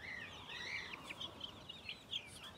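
Baghiyara breed chicks on a fancy poultry farm in Pakistan peep and cheep in a steady, overlapping chorus of high, thin calls, fairly close, with no talking.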